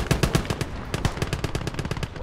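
Rapid machine gun fire in the Gates of Hell World War II strategy game, a dense unbroken stream of sharp gunshots lasting a couple of seconds, loud and close with no talking.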